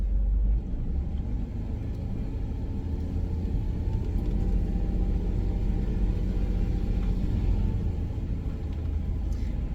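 A Jeep engine crawls slowly in first gear up a steep offroad mountain trail, giving a steady low rumble that stays close and fairly loud throughout, with no talk over it.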